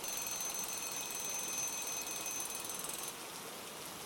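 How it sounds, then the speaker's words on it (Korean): A mobile phone alarm rings as a steady, high electronic tone that repeats without a break, faint and alone with no voices. "미친 듯이 울리는 핸드폰 알람 소리에 저는 발작하듯이 잠에서 깨어났습니다."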